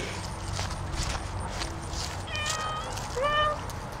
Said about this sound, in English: I think that cat's like hungry or something.